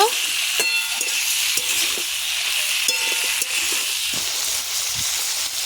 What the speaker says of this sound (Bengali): ঝিঙেগুলো ভালো করে কষিয়ে নেব।